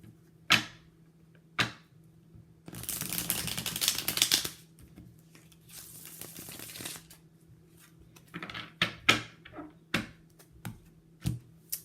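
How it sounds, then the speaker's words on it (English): Tarot cards being shuffled by hand: two bursts of riffling and rustling lasting a couple of seconds each, bracketed by sharp taps and snaps as the deck is squared and cut, close and fairly quiet with no talking. "Shuffle one more time."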